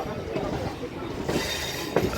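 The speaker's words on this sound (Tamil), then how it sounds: "ஃபாஸ்ட் ட்ரெயின் வந்து எக்மோர் செங்கல்பட்டுலேருந்து வருது, அந்த ட்ரெயினில் போகிறோம்." A fast suburban train from Egmore toward Chengalpattu rumbles along the track from onboard, with a continuous low roar, brief wheel squeals and clatter, and faint voices in the background.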